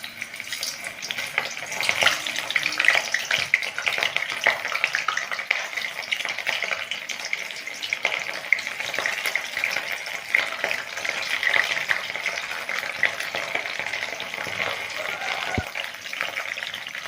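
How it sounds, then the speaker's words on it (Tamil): Native ivy gourd (kovakkai) pieces deep-fry in hot oil, giving a dense, continuous bubbling sizzle that holds steady and close for the whole stretch, with no voices. "இப்போ கோவக்காயை எண்ணெயில் போட்டு பொரித்து எடுத்துக்கலாங்க"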